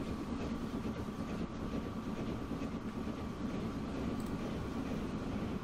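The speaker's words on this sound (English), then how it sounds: "There's a freight train." Freight train rolling along a UK line in the Transport Fever 2 game, a steady broadband rumble with a faint tonal hum that holds at an even level throughout, with no talk over it.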